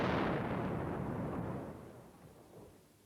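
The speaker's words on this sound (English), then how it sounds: "A rocket landed just behind us." A rocket explosion lands close by in war-torn Grozny, a loud broadband blast that rolls and fades over about three seconds with a rumbling tail and no voices.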